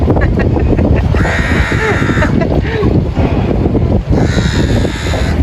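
Harsh, repeated bird calls cut through heavy wind rumble and outdoor noise, sounding fairly close in two separate bursts.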